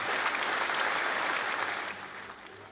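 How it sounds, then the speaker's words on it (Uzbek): A studio audience claps for contestant Mashkura on a game show, a dense burst of loud applause that swells and then tapers off over about three seconds. "Mashkuraga olqishlar bo'lsin"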